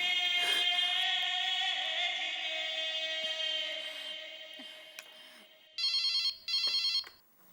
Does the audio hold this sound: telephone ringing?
yes